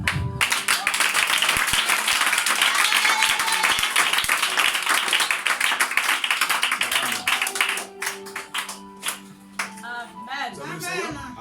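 A church congregation bursts into loud sustained clapping and applause that gradually thins into scattered claps, with voices rising over it toward the end.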